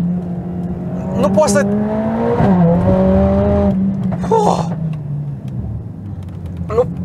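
A Mercedes-AMG A45 S engine revs while driving laps, and its rising and falling pitch shifts quickly through the gears. It is loud and close, and people talk over it.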